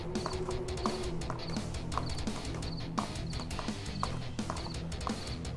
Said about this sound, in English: Oh, horses out of stamina again.